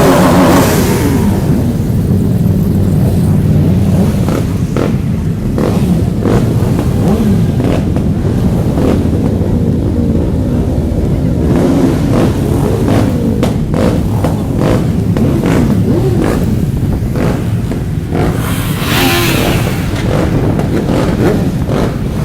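Motorcycle engines drone and rev continuously at the Enduro du Touquet beach race event, a loud dense mid-pitched roar for the whole stretch with a few rising revs near the end.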